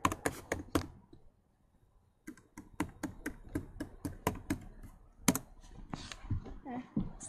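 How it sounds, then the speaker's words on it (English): Close typing on a computer keyboard: a few quick clicks, a short pause, then a steady run of crisp keystrokes with occasional louder key hits. "here's a computer. I'm just gonna type in a bit."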